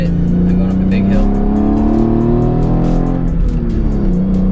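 A 2013 Hyundai Genesis Coupe fitted with an Injen intake accelerates uphill, its engine droning steadily and rising in pitch under load for several seconds, loud and close inside the car.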